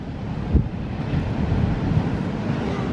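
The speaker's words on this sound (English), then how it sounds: "Some huge wave crashes." Big surf rolls onto Tenby South Beach on a windy March morning, a low rumbling wash with a heavier thump early on, blended with steady wind buffeting the microphone and no speech.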